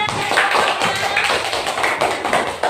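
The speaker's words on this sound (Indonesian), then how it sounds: "Tepuk tangan untuk Tania" Children in a classroom clap steadily for a classmate during a science lesson, a busy, close wash of overlapping hand claps with rhythmic accents throughout.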